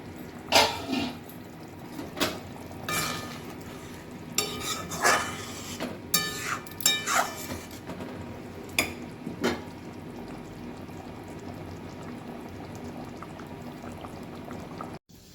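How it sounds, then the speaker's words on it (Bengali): Curry gravy with gitte (gram-flour dumplings) bubbling in a pot for Rajasthani gitte ki sabzi, a steady close boil with scattered louder pops and bursts over a continuous simmering hiss, no voices. "সব ঝোলের মধ্যে ফুটছে।"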